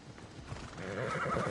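A horse whinnies loudly over the clatter of hooves in Assassin's Creed Odyssey, a brief game sound effect filling the short clip.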